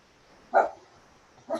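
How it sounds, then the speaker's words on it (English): A dog outside barks twice, about a second apart, each a short muffled bark at moderate distance against a quiet indoor room. "So excuse my dog out there causing a fuss."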